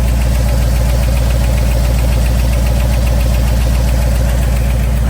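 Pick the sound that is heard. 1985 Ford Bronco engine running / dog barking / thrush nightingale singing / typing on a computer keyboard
1985 Ford Bronco engine running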